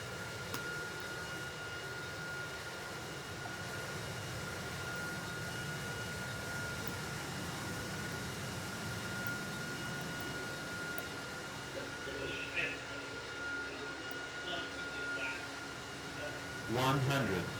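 Airplane engine drone from a flight-simulation video game (PTFS) during a low flyover of an airport runway, a steady, sustained roar, with a faint tonal whine and brief chirping sounds near the end.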